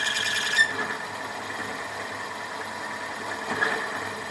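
A metal lathe takes a light finishing cut on a steel part for a Sentinel steam waggon camshaft linkage repair, making a quiet, steady whir with two brief squeals of the cutting tip.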